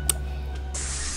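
A facial spray mists in a short hissing burst during a pampering session, preceded by a faint tick, against a low steady background hum.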